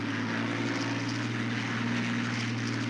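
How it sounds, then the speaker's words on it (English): A Hawker Hurricane Mark IIc fighter with four cannons drones steadily in a flight combat game, a constant low propeller-engine hum held at moderate level throughout. "Here's a Hurricane Mark II C with the four cannons on it."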